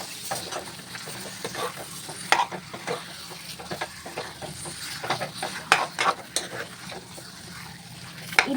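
Half a kilogram of chicken stirred into spicy masala in a pan, repeated scraping and clinking stir strokes over a steady sizzle, close and moderately loud with irregular rhythm.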